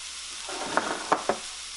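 Potato latkes fry in coconut oil in a skillet over medium heat, a brief crackling sizzle with a few sharp pops, close and alone.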